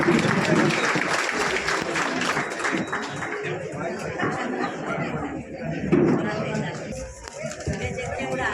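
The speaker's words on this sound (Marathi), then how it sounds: "सर्वांनी जोरदार टाळ्या वाजवून त्यांना अभिनंदन करूया।" An audience at a Republic Day ceremony in Lonavala applauds with sustained, crowded clapping mixed with chatter and voices through the whole stretch.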